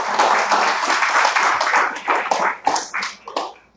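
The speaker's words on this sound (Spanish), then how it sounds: "¿Usted le puede dar un aplauso a Dios por eso?" A church congregation at a Sunday celebration service in Medellín claps together in dense, continuous applause. The sound is loud and close, then tapers into scattered claps near the end.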